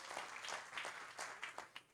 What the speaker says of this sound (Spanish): usted le da un aplauso al Señor